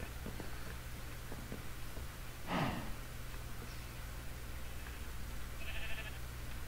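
A Minecraft cow gives a single short moo partway through, set against a steady low background hum with no other animals audible.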